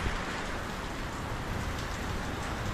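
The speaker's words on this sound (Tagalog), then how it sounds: "Bumuhos na ng ulan, tapos huminto." Steady rain pours down, a dense continuous hiss of drops on surfaces with no voices.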